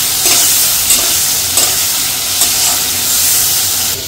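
Shrimp frying in a wok with ground spices and paste, a steady close sizzle with brief scraping stirs at intervals and no voices.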